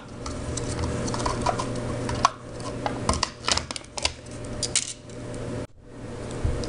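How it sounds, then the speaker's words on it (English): A can of Pillsbury vanilla frosting is opened up close. Its lid and seal give a series of small ticks, clicks and crinkles over a low background hum, with a short quiet gap near the end. "So we're going to open just our Pillsbury vanilla frosting."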